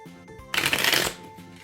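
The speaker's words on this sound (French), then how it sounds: "on va mélanger les cartes un peu." Playing cards being shuffled in one quick riffle lasting about half a second, close and crisp, with quiet moments before and after and no talking.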